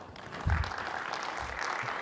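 Audience applause at a tech conference session on Azure App Service web and mobile apps: a short, steady wash of clapping from a seated crowd, moderately quiet and fairly even throughout.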